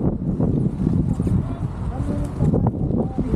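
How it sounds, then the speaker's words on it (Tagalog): Gusty wind at Mount Robson, British Columbia, buffets the microphone with a low, rumbling roar while people talk nearby. "Mahangin."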